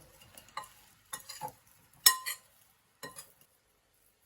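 A spoon stirs a peppered preparation moistened with cucumber water in a bowl, giving several short scraping, clinking strokes separated by quiet pauses.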